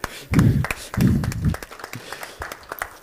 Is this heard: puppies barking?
no